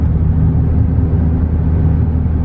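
A Dodge Charger Hellcat with catless midpipes gives off a deep, steady exhaust rumble close by, a low droning growl that holds even and unbroken throughout.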